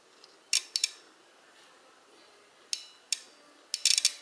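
A lawn tractor relay under test clicks sharply when powered, giving a few isolated metallic clicks and a short cluster of rapid ticks near the end, close and fairly quiet.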